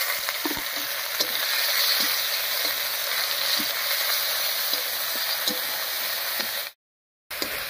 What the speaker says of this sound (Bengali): মশলাগুলো দিয়ে নাড়িয়ে নিয়েছি